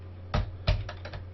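Several sharp keystrokes on a computer keyboard while entering Excel VBA code, a pair of clear taps followed by a quicker run of lighter ones, close and alone over a steady low hum.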